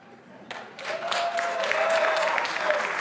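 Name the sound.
debate audience applauding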